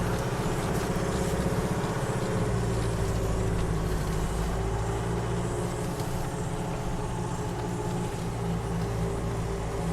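Vehicle driving south on the Kapiti Expressway alignment, with steady loud engine and road rumble, broadband tyre and wind noise continuing throughout with no voices.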